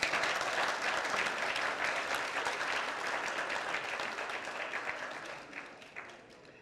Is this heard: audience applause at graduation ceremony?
yes